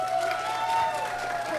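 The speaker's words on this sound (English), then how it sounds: "I'd say that was a lot of applause for Trump to start." Audience at a political event gives a short burst of applause and cheering, a dense wash of clapping with crowd noise and voices mixed in.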